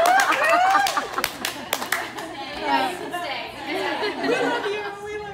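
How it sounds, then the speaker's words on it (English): Hands clap in a slow, spaced rhythm at a women's summer yoga event, a handful of sharp claps up front, then chatter, chuckles and voices take over. "Slow clap"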